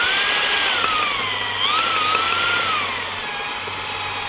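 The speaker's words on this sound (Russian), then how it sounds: "И вот подсоединили дрель." An electric drill whirs steadily while spinning the starter of a GAZ-63 truck, with a low mechanical hum beneath and a slight dip in pitch partway through; close and fairly loud, no talking.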